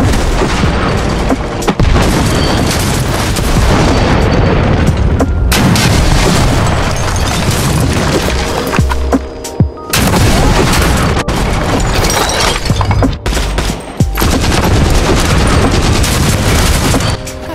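A Maxim minigun fires in the mobile shooter World War Heroes during a team deathmatch, roaring in long, loud, sustained bursts broken by brief pauses, with booming impacts layered through the sustained fire.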